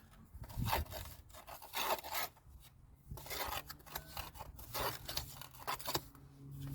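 A trowel packs mortar into the joints between patio slabs with quiet, repeated scraping and rubbing strokes at close range and an uneven rhythm.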